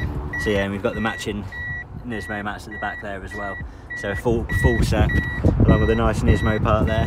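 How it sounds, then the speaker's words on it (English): A Nissan Skyline R33 GTS-T car alarm beeps in short, repeated tones at a steady rhythm beneath someone talking continuously close by. "you're going to witness the alarm again"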